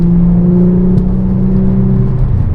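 A 2016 Mercedes-Benz C450 AMG engine drones steadily at high revs on open throttle, a strong sustained high-pitched wail that holds fairly level throughout, with no voices.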